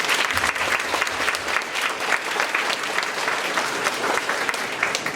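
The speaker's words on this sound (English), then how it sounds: "Let's also give a round of applause for the teachers and administration here at MacMillan." A crowd at a 5th grade commencement ceremony applauds the teachers and administration with loud, sustained clapping from many hands, a full and steady roar with no break across the whole stretch.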